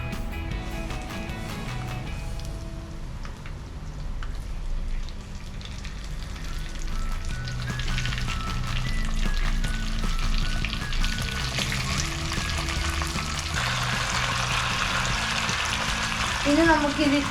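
Freshly washed mutton pieces hit hot oil in a pan for a Kerala-style mutton curry, giving a steady, close sizzle and crackle that swells louder toward the end, with faint voices now and then.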